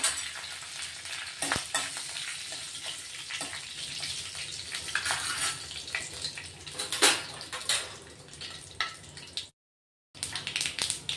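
Curry leaves and Kashmiri red chillies frying in a dal tadka tempering, a steady close sizzle and crackle with occasional stirring scrapes and a brief dropout near the end.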